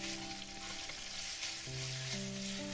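Bean sprouts and garlic chives stir-frying with a mixed sauce and pork belly, a dense, continuous sizzle close by with steady hiss, while a faint background tone hums underneath.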